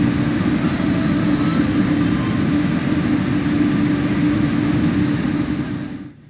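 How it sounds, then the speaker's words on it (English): An ICE 3M high-speed train trundling past Dresden-Freiburger Strasse station in Train Simulator gives a loud, continuous low rumble and rolling roar that holds steady, then fades out abruptly at the end, with no talk. "Here we see an Ice 3M trundling past Dresden-Freiburger Strasse"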